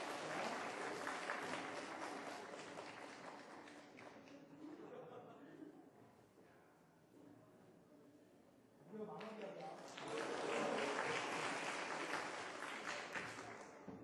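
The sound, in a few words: audience applause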